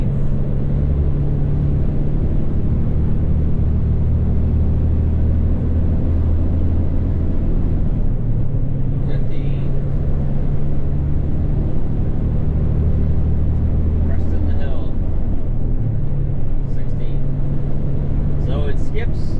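Kenworth T880 truck engine droning steadily at close range, a low continuous rumble with slight dips as it shifts up through gears, some gears skipped in the middle, with someone talking over it.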